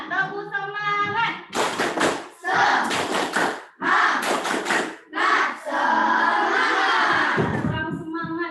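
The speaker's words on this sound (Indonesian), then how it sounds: "kita tepuk semangat dulu untuk kita semua" A group of children and adults performs a rhythmic Indonesian spirit clap, bursts of patterned clapping alternating with a woman leading them with chanted calls, all fairly close and loud.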